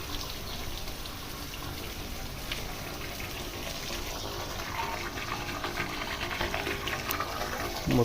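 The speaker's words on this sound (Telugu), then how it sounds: "ఎందుకు వస్తున్నాయి ఇట్లా వాటర్ మొత్తం బురద బురద వస్తుంది ఎందుకు" Muddy bore well water gushes out in a steady, loud rush that holds throughout, with a slight swell near the end and no voices over it.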